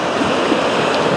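Sea waves wash near a cruise ship in a soft, continuous broadband rush, fairly quiet and steady, with no talking.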